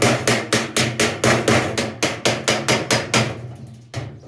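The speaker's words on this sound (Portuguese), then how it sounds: "Vou estar usando um ferro maciço e o martelo" A hammer strikes a solid iron bar to drive out rivets, about fifteen loud, evenly spaced metallic blows in a steady rhythm, close up and with no voices, ending in a short pause before a final hit.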